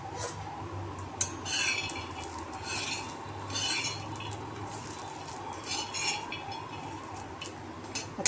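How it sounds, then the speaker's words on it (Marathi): Peanuts and grated coconut dry-roast in a pan, heard as quiet, intermittent scraping and light metallic clinks from stirring, close by and without talk. "आता मी याला जरा भाजून घेते मग तुम्हाला दाखवते."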